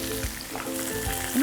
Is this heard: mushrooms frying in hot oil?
yes